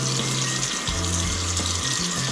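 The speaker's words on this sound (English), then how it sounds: "drain the package and just run some cold water over top" Cold tap water runs steadily over drained noodles in a sink, a close, continuous splashing rush with a low, wavering tone beneath, and no talking.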